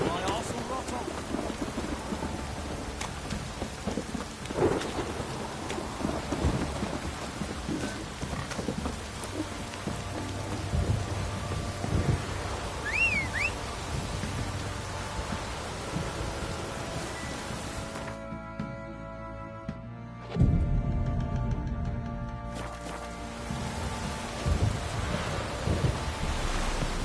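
Steady heavy rain with rolling thunder in the open world of The Witcher 3: Wild Hunt, a constant hiss of downpour with low rumbles, briefly cutting out near the end before resuming.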